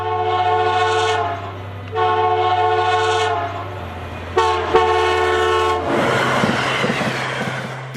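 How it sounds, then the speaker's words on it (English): A train horn sounds a grade crossing signal pattern of long and short blasts, loud and close, with the sustained harmonic tones breaking off and resuming and ending amid rumbling rail noise. "for approaching grade crossings, the signal is 2 long, 1 short, and a long blow of the horn"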